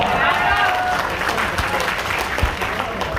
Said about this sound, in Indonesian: Diam aja, tepuk tangan